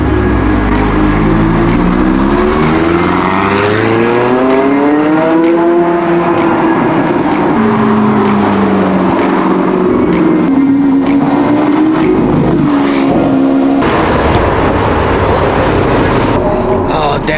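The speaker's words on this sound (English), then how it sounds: "you can actually hear the supercars just driving around all over the place here" Car engines rumble and rise in pitch as vehicles pass along California streets, with rising and falling engine tones continuous throughout amid busy street noise, and a voice speaks briefly.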